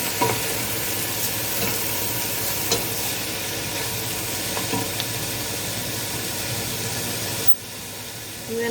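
Mixture for a lasagne cooking in a hot pan, a steady close sizzle and frying hiss that continues evenly and dips briefly near the end, with nobody talking.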